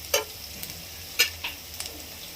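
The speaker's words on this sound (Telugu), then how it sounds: "ఆకుకూరని ఇందులో వేసి వేయించాలండి" Amaranth leaves fry in a pan with a soft, steady sizzle, broken by a few sharp spatula scrapes and taps against the pan, close and fairly quiet.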